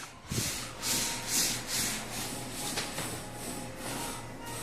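A media roll on a Roland VersaCAMM SP-540i printer is rolled back by hand after the clamp is lifted, giving a steady soft rubbing, rolling rumble with a few brief louder swells, close and alone over about four seconds.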